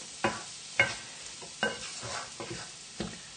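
Onions softening in a pan on the stove: a soft, close sizzle runs throughout, broken by several crisp scraping stirs spaced roughly every half second to second.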